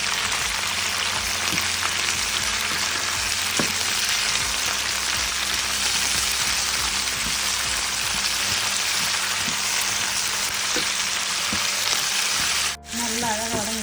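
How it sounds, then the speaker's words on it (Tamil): Garlic, shallots and green chillies fry in oil, making a continuous dense sizzle with occasional stirring taps, close and steady throughout. "வெட்டி வச்ச பச்சை மிளகாய் நம்ம இதை சேர்த்து நம்ம அழகாக வதக்கி"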